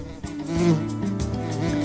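A bee buzzes with a steady droning hum, close and moderately loud, rising slightly in the middle and holding on alone.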